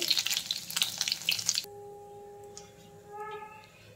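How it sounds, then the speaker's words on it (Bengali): Bay leaf, dried chili and whole cumin hitting hot mustard oil give a loud, close sizzle for about a second and a half, then it cuts off and a faint steady tone and quiet rustle follow. "তেল গরম হয়ে গেছে, ফোড়নে দিয়ে দিলাম একটা তেজপাতা আর শুকনো লঙ্কা, গোটা জিরে"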